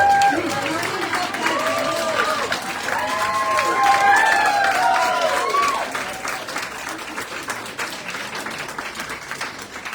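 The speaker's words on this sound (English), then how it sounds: "Now our finalists, raise your hands so we can give you another big clap." Applause for finalists at the launch of the Local Contemporary Art Prize on the Sunshine Coast, a dense, continuous clapping from an indoor crowd, building slightly and then thinning out, with voices and chatter running through it.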